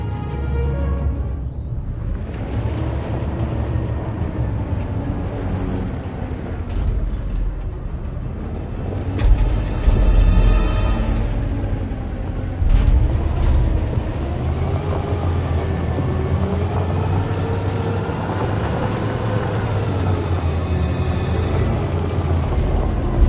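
A truck driving in the video game Detroit: Become Human, its engine rising and falling in pitch with a hiss like an air brake, loud and continuous, with game music or ambience underneath.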